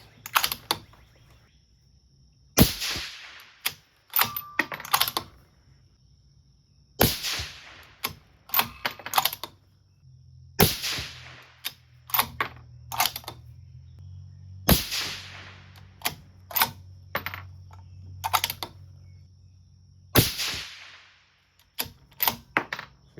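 Sharp, loud rifle shots ring out one at a time at irregular intervals, about ten cracks with short reverberant tails while zeroing a Discovery HD XED 6-36x56 scope, with a low hum in the background between shots.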